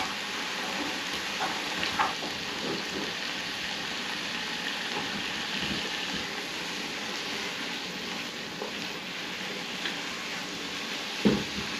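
Ground meat for an allergy-free bolognese sizzling steadily in a pan while being broken up, with a continuous hiss and a few faint scraping stirs, a sharper clack near the end.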